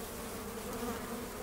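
Honey bees pour out of a hive in a house soffit in Arizona during a removal, a dense, steady buzzing drone close by with no voices.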